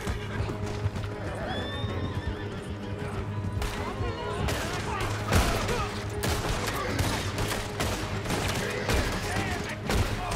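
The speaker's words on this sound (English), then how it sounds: "That was some good shooting, Morgan." Gunfire in Red Dead Redemption II, rapid bursts of shots cracking over horses whinnying and hooves clattering, with voices talking throughout a busy, noisy shootout.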